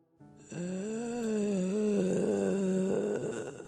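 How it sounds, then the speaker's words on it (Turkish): A ghost's drawn-out, rising and falling groaning moan, loud and close, sustained for several seconds with a rough, growly texture. "Yüzünü ekşitmiş ve bir hırıltı yayıyordu."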